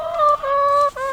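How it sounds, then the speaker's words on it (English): Chickens in a coop giving a close, loud run of clucking calls, a few short vocal notes in quick succession. "Oh, thank you, chickens."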